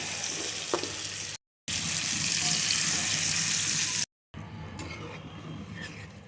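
Water poured into potato curry cooking in a pan, giving a loud, steady hiss and sizzle that runs in three stretches broken by two brief silences.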